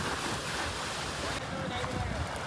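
A boat moves across open water with a steady rush of wind and wave noise that stays loud and unbroken throughout.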